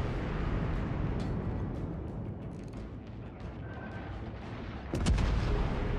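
Naval guns firing in a ship combat video game, heavy booming shots rolling over a dense low rumble, with a louder burst near the end.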